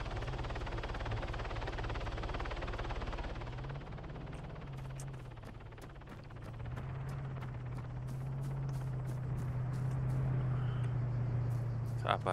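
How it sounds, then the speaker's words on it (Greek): A helicopter in the video game Arma 3 produces a continuous low rotor drone and engine hum, steady and fairly loud across the whole stretch, with faint clicks later on. "Θα πάρω το ελικόπτερο."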